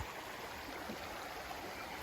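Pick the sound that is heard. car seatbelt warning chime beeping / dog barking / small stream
small stream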